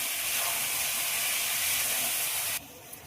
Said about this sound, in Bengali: মোচা দিয়ে খুব ভালোভাবে নেড়ে দেবো।